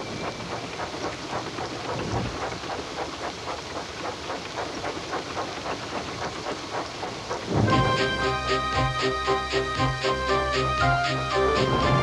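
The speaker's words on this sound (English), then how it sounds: "The rain streamed down Percy's boiler." Heavy rain pours steadily with low rumbling underneath; partway through, music joins in and plays over the downpour.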